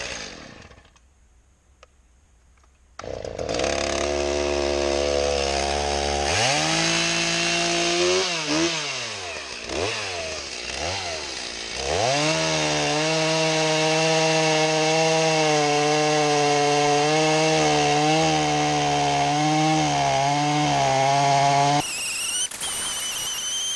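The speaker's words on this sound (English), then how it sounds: "That saw's cutting so much better now that I sharpened it." Freshly sharpened chainsaw cutting wood rounds from a stump, starting after a quiet moment and then roaring loudly and close, its engine pitch rising and dipping repeatedly as it bogs into the wood and revs back up.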